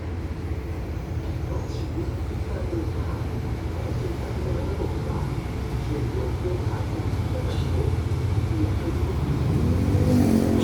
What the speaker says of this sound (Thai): เลื้อยมาช้าๆ นะครับ ขบวนรถเที่ยวนี้ล่าช้ามานะครับ